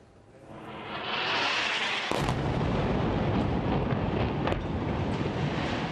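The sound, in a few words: explosions and bombardment at night in Gaza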